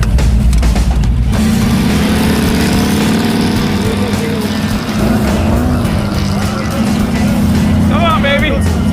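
A rear-engine mini truck makes its first autocross pass, its engine droning loud and close at a steady pitch throughout, with people talking over it.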